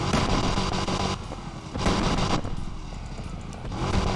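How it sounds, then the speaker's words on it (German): A car engine in the racing game NFS Unbound starts and revs aggressively, with loud bursts of roaring and popping exhaust that rise and fall over a few seconds. "Mach mal Vorschau. Motor starten."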